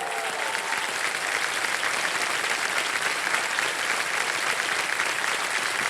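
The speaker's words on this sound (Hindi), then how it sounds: "तालियां बज जाए इनके लिए।" A quiz show's studio audience claps loudly and steadily, a thick, even wall of applause that carries on for several seconds with no talking.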